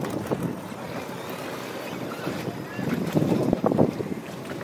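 A Thai long-tail boat engine idles near Railay beach, a rough low mechanical rumble mixed with wind buffeting on the microphone and a person speaking over it.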